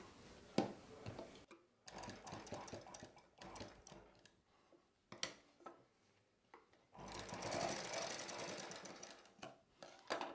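A sewing machine stitches a child's cotton summer frock in several short, stop-start bursts, ending with a longer continuous run, close and fairly quiet with no voices.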